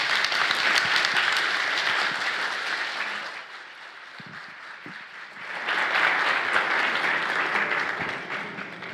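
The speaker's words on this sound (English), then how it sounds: "Another big round of applause for Dr. Michael Okun." Audience applause after a medical presentation at a neurology summit on Parkinson's disease, a loud dense clapping that dips briefly in the middle then swells again, with no voices.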